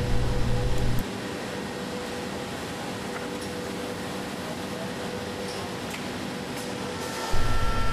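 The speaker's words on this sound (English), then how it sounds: "the Busellato simultaneously loads a new panel, unloads finished parts, and vacuums the table" A Busellato CNC machine in a cabinet shop runs with a steady, loud mechanical and vacuum hum while finished panel parts are unloaded and the table is vacuumed, with a heavier surge at the start and end.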